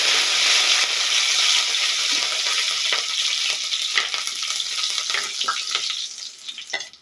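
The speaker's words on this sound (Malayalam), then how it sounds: "എണ്ണ ചൂടായി വന്നിട്ടുണ്ട്. നമുക്ക് ഉലുവ ഇട്ട് കൊടുക്കാം. കടുക്," Fenugreek, mustard seeds and curry leaves hit hot oil in a pan, setting off a bright, crackling sizzle that runs steadily and eases slightly, with a few spatula scrapes toward the end.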